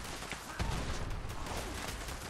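Rapid submachine gun fire in the video game Fallout 76, from an explosive vampire submachine gun, sounding as a dense, continuous, unbroken rattle of shots that fills the whole stretch at moderate loudness.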